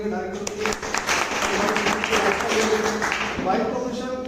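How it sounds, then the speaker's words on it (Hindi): Enthusiastic clapping from an audience at a company event for Kaveri Ayurveda honours the director, a continuous moderate patter of hands running the length of the clip, with some tonal sound mixed in. "वह जोरदार तालियां चाहूंगा"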